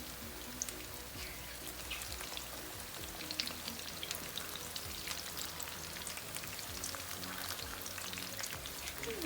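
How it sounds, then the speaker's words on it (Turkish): Thin eggplant slices fry in oil for maqluba, a steady close crackling sizzle with dense popping that runs without pause and with no voices. "Arkalı önlü şöyle bir ön pişirim yapacağız patlıcanlarımıza"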